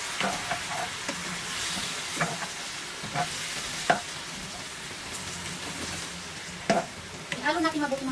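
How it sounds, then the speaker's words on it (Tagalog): Chicken feet adobo in soy sauce and Sprite sizzles in a pan while a utensil stirs it, giving a steady frying hiss broken by scattered knocks and scrapes against the pan's metal. "Ihalo natin mabuti mga lods. Para pare-parehong makot yung chicken feet."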